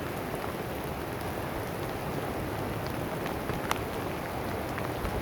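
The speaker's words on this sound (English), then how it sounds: "Still raining." Steady rain falls on trees in the Bob Marshall Wilderness of Montana near the White River, a constant close hiss of drops with a few louder individual splashes and no voices.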